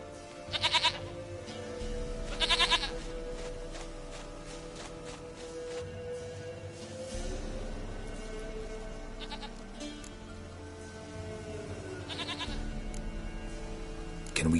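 Video game Witcher 3 goat giving short, scattered bleats, several bursts spaced over a steady ambient bed with faint footsteps, moderately close and fairly quiet.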